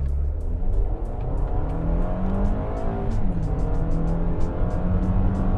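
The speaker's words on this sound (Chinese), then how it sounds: "那我现在就试看在 Sport 模式下这个加速表现如何" A 2020 Toyota RAV4 accelerates hard in Sport mode, its engine droning loudly and steadily with rising pitch and gear shifts heard from inside the cabin, without talk.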